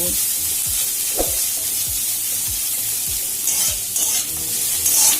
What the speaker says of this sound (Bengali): চেরা পেঁয়াজ আর কাঁচা লঙ্কাটাকে তেলের সাথে নাড়াচড়া করে মিশিয়ে ভাজা ভাজা করে নেব